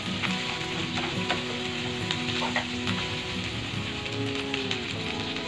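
Onion frying in oil in a home kitchen pan: a continuous dense sizzle like rain on a surface, with faint crackles throughout, close and steady, no speech.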